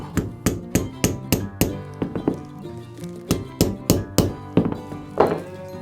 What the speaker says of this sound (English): Gently tap to set the rivet.